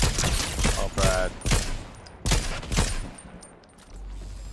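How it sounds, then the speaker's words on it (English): Gunfire in Fortnite rings out in several sharp, loud bursts of rapid shots, close and punchy, separated by brief pauses, with no one talking. "I heard the shots and I pulled back."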